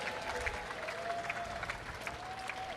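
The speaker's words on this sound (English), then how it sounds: "Give Chris Gale a round warm of applause." Faint, steady applause from an audience at a cricket presentation after a West Indies Champions versus South Africa Champions match at Edgbaston, a dense wash of clapping with a voice faintly audible underneath.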